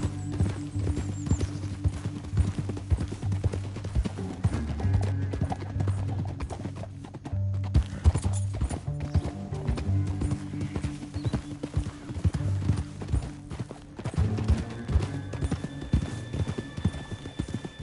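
Steady clip-clopping of horse hooves at a walking pace in Red Dead Redemption 2, with an occasional whinny over a low rumbling background, continuing throughout.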